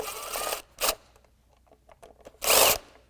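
A socket tool zips nuts off a SnowDogg snowplow halogen light housing, with a long whirring burst, a brief second spin and a final loud burst, close by with quiet pauses between.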